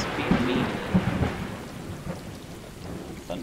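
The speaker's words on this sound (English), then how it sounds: "Thunder's a little loud." Rumbling thunder in the video game Stray, a deep roll that swells early and then fades into steady rain hiss, loud and close with no voices.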